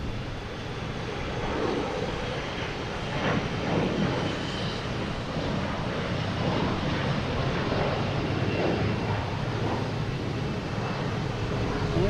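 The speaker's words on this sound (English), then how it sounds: "We have a Delta here, E-175 heading to Columbus." Jet engine roar from a Delta Embraer E-175 airliner at Boston Logan Airport, a steady broadband rumble holding loud and even for about twelve seconds with faint wind noise and no talk.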